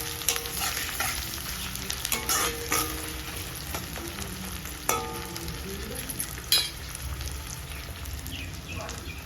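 Onions sautéing in a pan for a spicy prawn gravy give a steady, close sizzle with soft stirring scrapes and a few louder clinks of the spoon against the pan.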